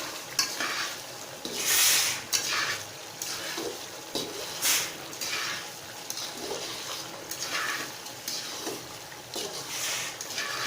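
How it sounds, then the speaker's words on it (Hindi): Masala being roasted and stirred in oil in a kadai, a spoon scraping in repeated strokes over a steady sizzle, close and moderately loud with no talking. "अब हम इसकी अच्छी सी भुनाई कर लेंगे।"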